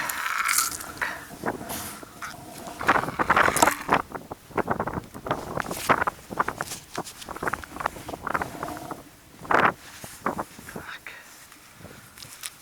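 Gusty wind buffets the microphone in rough bursts while ice fishing for crucian carp, with scattered knocks and handling noise, loud and close throughout.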